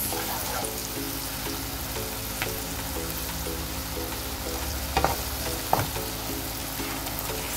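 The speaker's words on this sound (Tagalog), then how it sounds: "magluluto tayo ng palabok sauce" Palabok sauce sizzles and fries steadily in a pan, with a constant hiss under a few scraping stir sounds and two sharper clinks near the end.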